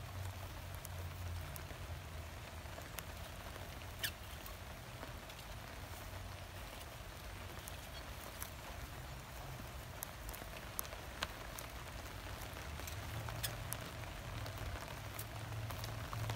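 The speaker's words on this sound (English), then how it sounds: "That rain's getting quite heavy now." Heavy rain falls steadily on an allotment, a dense continuous patter close by with occasional louder drops, no voices over it.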